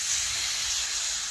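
Water splashed into a hot pan while making the vegetable dish shukto with poppy seed paste sets off a steady, bright, close sizzle that fills the moment without any voices.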